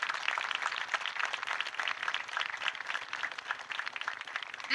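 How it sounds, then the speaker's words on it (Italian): An audience applauds women farm leaders at the opening of the Antica Fiera di San Gregorio in Valdobbiadene, a steady, dense patter of many hands that holds at moderate level throughout, with no speech over it. "per cui credo che si meritino loro un applauso."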